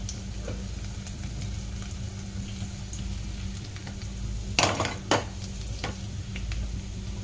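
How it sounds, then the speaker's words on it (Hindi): Cumin seeds crackle and sizzle in leftover hot oil with a steady frying hiss. A couple of sharper spatters or stirring scrapes stand out partway through. "सबसे पहले इसमें जीरा डाल देंगे और तड़कने देंगे।"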